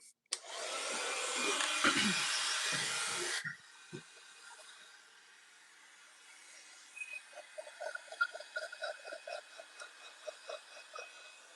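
A heat gun blasts hot air over fresh paint for about three seconds, a loud broad hiss that cuts off abruptly, followed by quiet room tone and faint clicks and taps.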